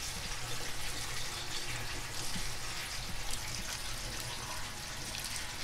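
Water runs continuously from the cold tap into a newly plumbed kitchen sink, a steady close splashing hiss with no voices.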